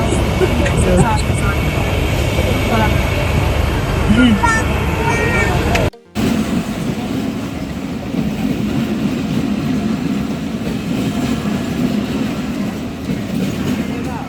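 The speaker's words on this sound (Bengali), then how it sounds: "এই যে ট্রেনটা চলে গেল" A train rushing past close by, a loud sustained roar of rolling wheels and rattling carriages that fills the whole stretch, with a brief dropout midway and a voice speaking over it.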